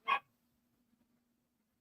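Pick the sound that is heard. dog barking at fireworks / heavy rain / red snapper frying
dog barking at fireworks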